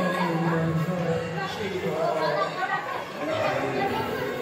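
Dense crowd chatter fills the inside of the Ram Janaki temple during a Mahashivratri yatra, many overlapping voices forming a steady, close murmur with no pauses.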